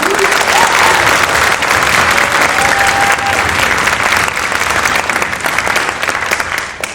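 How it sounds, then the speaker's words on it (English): Steady, dense audience applause for student musicians at a 250th-anniversary concert fills the whole stretch, loud and sustained with a faint tonal note briefly audible partway through, tapering slightly at the very end. "Can you please give them a round of applause?"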